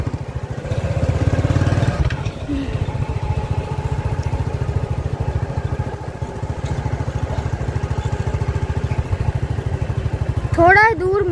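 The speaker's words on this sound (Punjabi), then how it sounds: "ਧੂੜਾ ਮਚਾਉਂਦਾ ਜਾਂਦਾ ਵੇ ਟਰੈਕਟਰ" Tractor on a dusty rural track near a canal in Punjab, a steady, loud, close engine drone with a mechanical rattle lasting throughout, and a voice speaking over it.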